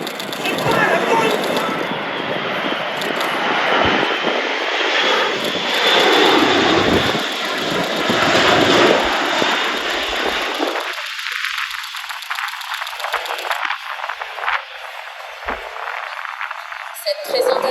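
Airbus A400M military transport aircraft performing a tactical flying display at an airshow at La Ferté-Alais: a loud, sustained turboprop engine roar that swells as the aircraft passes, then thins and recedes toward the end.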